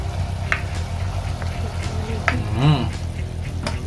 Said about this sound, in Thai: เราจะผัดจนหมูเขาสุกเลยนะครับ